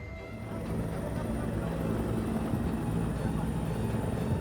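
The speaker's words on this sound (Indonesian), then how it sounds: "pesawat dievakuasi dengan cara diangkat menggunakan helikopter Kamov dari distrik Kenyam menuju Timika" Kamov helicopter lifting a damaged plane out of a remote district, a steady broadband rotor and engine roar that holds at a constant level from start to finish with no voices.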